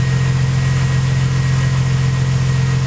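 A stone-cold 2007 BMW Z4 M with a supercharger fitted idles smoothly and steadily close by, a constant low engine hum with a faint rhythmic pulse and no voices.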